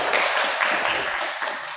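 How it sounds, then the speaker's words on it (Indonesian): Students in a classroom give a short round of applause for a presenting group, a steady dense patter of hand claps close by that fades slightly. "beri tepuk tangan untuk kelompok 3"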